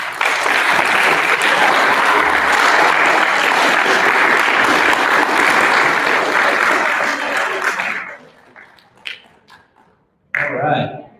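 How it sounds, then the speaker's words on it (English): Students applaud at a sixth-grade awards assembly, a loud, dense wash of clapping that holds steady for about eight seconds, then drops away into a few scattered claps and stray voices. "Give yourselves a round of applause."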